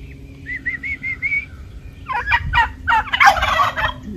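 Turkey gobbling on a homestead: short rising calls repeat for about a second, then several loud gobbling bursts follow close to the listener, over a steady low background hum.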